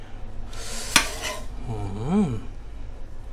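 Stir-fried mala pork belly with sweet peppers is scooped and served onto dishes: a sharp clink of a spoon or spatula against a plate, then a soft scrape and a short, rising and falling squeak.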